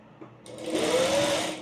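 A sewing machine stitches fabric in one continuous burst, starting quietly and then running steadily at close range, with its motor whine rising during the run.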